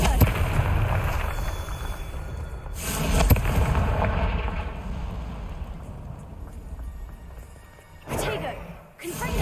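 Confringo spell blasts in the video game Hogwarts Legacy: broad booming explosions, one early and one near the end, over a rumbling roar of fire and debris.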